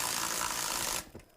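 A DeWalt Extreme 3/8-inch 12-volt impact wrench removing a bolt torqued to 80 foot-pounds: a close, loud, dense hammering burst of about one second that cuts off sharply.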